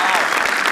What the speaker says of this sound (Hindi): एक बार दोनों के लिए तालियां प्लीज।